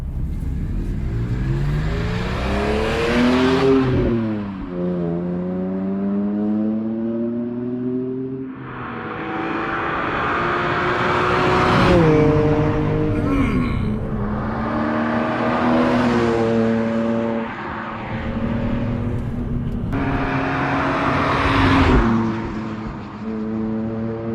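A BMW E46 M3 being driven hard, its engine revving up through the gears in repeated rising pulls with brief dips at each shift, loud and close throughout with no talking.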